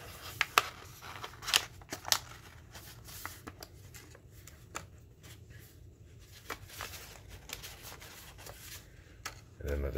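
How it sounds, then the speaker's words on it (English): Paper being folded into an origami triangular pyramid from a letter-size sheet, with soft crinkles and creases popping up irregularly throughout, a few sharper rustles, and a louder handling burst at the end. "From here, using this line as your midpoint, you're gonna fold this down and in."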